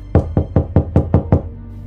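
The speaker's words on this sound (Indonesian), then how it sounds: "Bunyi pintu rumah yang aku ketuk." A hand knocking on a wooden house door, six quick even raps in a steady rhythm, close and loud with nothing else heard.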